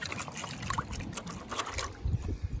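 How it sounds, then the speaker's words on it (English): Beach sand concentrate rinsed with water in a pail while prospecting for gold: close sloshing and trickling water with a few splashy swirls, continuous for a couple of seconds. "Just give it a little rinse"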